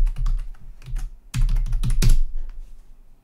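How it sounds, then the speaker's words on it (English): Someone types a password on a computer keyboard while setting up a Raspberry Pi 5, giving short bursts of close, crisp key clicks with a brief pause between them. "Now I'm going to type that."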